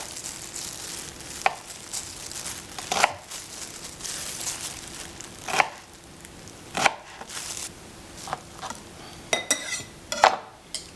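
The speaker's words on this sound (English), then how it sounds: "I'm gonna cut this into as small of pieces as I can." A knife chops red onion into small pieces on a board, with a dozen or so sharp, irregular knocks spread over a quiet kitchen background.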